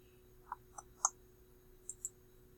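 A handful of light computer mouse clicks, isolated and sharp, spread irregularly across a quiet room with faint background hum.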